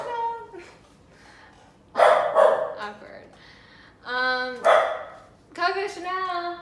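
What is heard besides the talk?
dog barking, pet dog Coco Chanel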